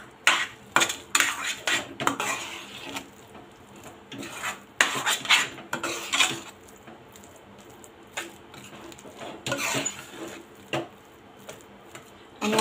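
Spoon stirring a chili pakora mixture in a pan over low heat: irregular scraping and clinking strokes against the metal, close and fairly quiet, coming in bursts with short pauses.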